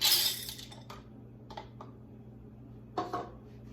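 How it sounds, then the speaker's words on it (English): Dry beans are poured into quart glass canning jars for ham and beans: an opening rush of rattling beans, then a few separate light clinks and a short second spill against the glass in a quiet room. "To each jar, I'm going to add 1 cup of dry beans."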